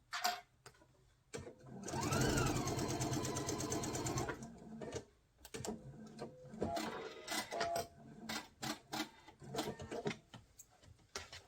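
A sewing machine chain piecing quilt block pieces back to back, with a sustained run of fast mechanical stitching in the middle, then shorter bursts, clicks and handling noises, close and fairly quiet.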